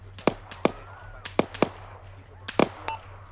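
Gunfire in the military simulation game Arma 3, sharp single cracks fired irregularly, about ten over a few seconds with a quick pair near the end, standing out over a low steady hum.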